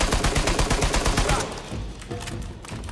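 Rapid bursts of automatic gunfire rattle in the video game Uncharted: Legacy of Thieves, a dense fusillade that thins out into scattered shots and thuds.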